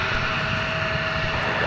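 Target Gulfstream business jet taxiing at a winter airport, its engines giving a steady, loud, continuous whine with a sustained tonal hum over broadband roar, close by and unbroken, with no voices.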